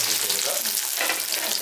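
Shallots sauté in a pan for meen pollichathu with a dense, continuous sizzle and frying hiss close up, steady throughout this short moment, with no talking.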